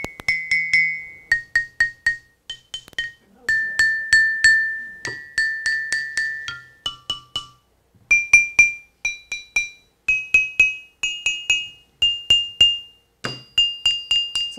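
A series of bright, ringing strikes on two-toned stone lithophone bars, each hit leaving a clear pitched tone, alternating between a few different notes in an uneven rhythm.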